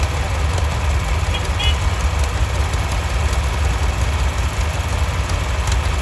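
A restored diesel tractor engine idling in a farm days parade, a steady low rumble with rhythmic knocking throughout while an announcer speaks over it.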